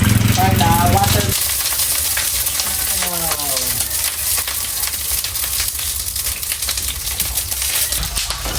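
Eggplant sizzles steadily in hot oil in a pan, a loud continuous frying crackle with a brief clatter at the start, while people talk over it.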